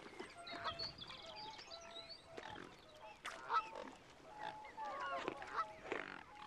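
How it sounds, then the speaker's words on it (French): Swans give repeated honking calls in short bursts at moderate distance, with a steady low background hum and no speech. "C'est des cygnes. Des cygnes, oui, de beaux et grands cygnes."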